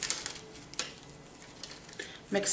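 Plastic makeup mixing plates clatter and click as they are handled and set down, with a few sharp contacts spread across a quiet stretch.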